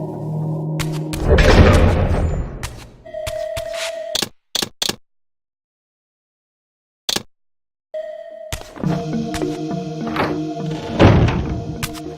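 A heavy door slams shut in the video game Legacy of Kain: Defiance, set in a cemetery: deep booming thunks and a rumbling slide, then a silent gap and more loud thuds and echoing reverberation.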